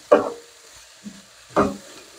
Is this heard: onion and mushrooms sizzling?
yes